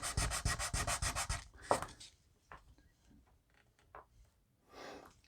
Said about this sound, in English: I'm just going to sand that away so it's gone